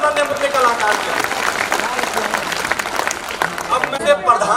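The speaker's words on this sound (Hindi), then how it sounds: "एक बार जोरदार ताली इस नन्हे मुन्ने कलाकार की।" Audience clapping at a school annual function for a young child performer, a moderate patter of applause that carries on steadily for several seconds.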